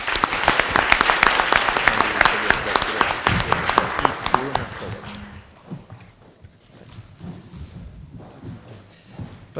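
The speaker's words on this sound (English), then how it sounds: "Then I think big applause to you, and thanks for participating here." Audience applause closing a panel discussion at a climate, resilience and security forum, dense clapping for about five seconds that thins to a few scattered claps and room murmur.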